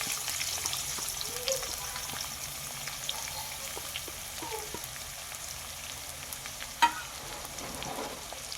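Two large onions sliced lengthwise, salted and frying in hot oil for a chicken roast, making a soft, even sizzle that hisses steadily throughout, with a single sharp clink near the end.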